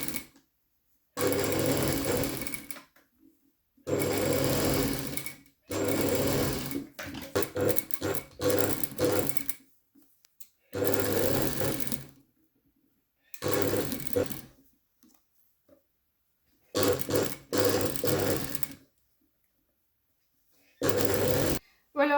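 A sewing machine stitching a tailored collar runs in repeated bursts of a few seconds each, loud and close, separated by silent pauses.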